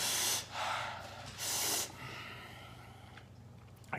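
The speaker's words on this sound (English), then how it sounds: "I guess breathing out my nose is helping." Someone breathing out hard through the nose after eating a fiery-hot Death Nut. Two strong, close nasal exhales of about half a second each come a second apart, then fainter breathing follows; no talk.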